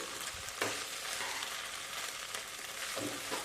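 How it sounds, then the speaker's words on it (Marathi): Sabudana khichdi stir-fried in a pan, a steady sizzle with a few soft scrapes of stirring, close and moderately loud with no voices. "छान असं परतवून घ्यायचे हे पहा छान अशी परतवून घ्यायचे"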